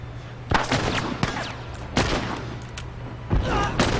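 A thrown bomb goes off in The Last of Us Remastered, with several sharp, loud blasts and bursts of gunfire-like crackle spread across the clip.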